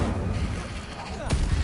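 The Incendio fire spell is cast in the game Hogwarts Legacy: a rushing, roaring blast with a sharp boom near the end, under a speaking voice.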